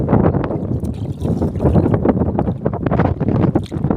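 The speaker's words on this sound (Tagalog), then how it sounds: "Lakas ng hangin." Strong wind blows hard along a shore where outrigger fishing boats sit stuck in port, buffeting the microphone in a loud, gusty, constantly churning roar with no clear voices.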